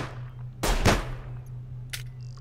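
Gunshots fired at the player in the video game Sir, You Are Being Hunted: a loud, sharp double crack close by, then a fainter single shot about a second later, over a low steady hum.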